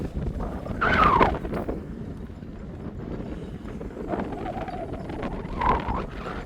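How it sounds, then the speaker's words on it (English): Gusty seaside wind buffets an unshielded microphone at a Cleethorpes holiday park with low, uneven rumbling that swells and fades, louder in a couple of bursts. "Excuse the wind noises."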